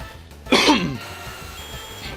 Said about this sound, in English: Dang, I have a bunch of coughs.